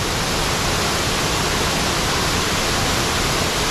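Waterfall at the Chuvisqueiro campsite in Riozinho, a steady broadband roar of falling water, loud and continuous with no voices.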